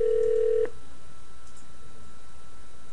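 An Avaya IP Office desk phone goes off hook and dials a number on its own, a short run of touch-tone beeps followed by a quiet line with no talking.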